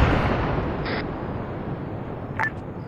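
A detonating explosive charge in ARMA 3 booms across a broad, sustained rumble at the start and rolls off slowly, with a second sharper report near the end amid distant battlefield noise.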